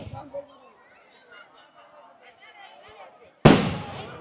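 Firecrackers at a village temple festival in Tamil Nadu, one sudden loud crackling burst near the end after quieter crowd murmur and distant festival sounds, with people talking close by.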